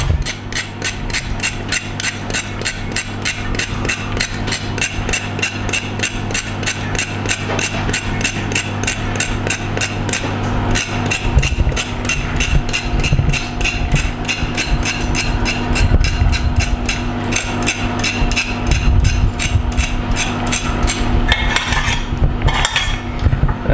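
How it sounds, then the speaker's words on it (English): Fresh peeled wasabi root from the Netherlands is grated in a restaurant kitchen, a rapid, steady scraping rhythm that is close and continuous, over low kitchen hum with some clattering near the end. "And then we grate it freshly."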